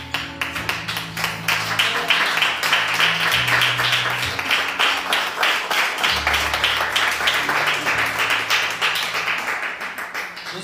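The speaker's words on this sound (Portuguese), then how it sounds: "com alegria aplaudir o Senhor" A church congregation claps together in steady, rhythmic applause for several seconds, a dense continuous patter of many hands with a low musical hum underneath.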